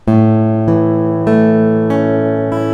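Guitar notes plucked slowly one at a time, each ringing out with a long sustain before the next, close and clear.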